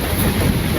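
Thunder rumbles through a heavy rainstorm in the rainy season, a brief, dense wash of rain noise with a low roll beneath, steady and close with no voices.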